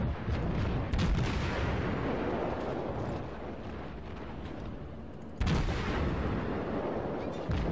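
Naval guns on a German cruiser in World of Warships fire heavy booming salvos, one loud blast near the start and another a few seconds later, each rolling into a long rumbling decay.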